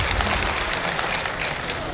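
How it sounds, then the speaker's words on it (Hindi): A crowd at a political rally in Meerut breaks into loud, continuous applause welcoming a guest, a dense wash of clapping that fills the space evenly from start to end. "एक बार जोरदार तालियों से उनका स्वागत करें"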